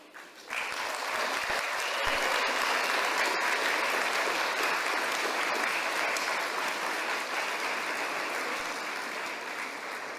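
Conference audience at an International Women's Day event applauding, dense continuous clapping that starts abruptly and holds steady for about ten seconds before easing slightly.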